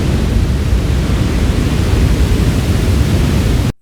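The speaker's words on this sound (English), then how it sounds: "and then waterfall." Steady, dense roar of falling water, loud and unbroken, filling the whole range evenly before cutting off abruptly at the end.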